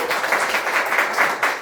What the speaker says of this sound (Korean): 하나님께 먼저 감사의 박수를 한번 올려드렸으면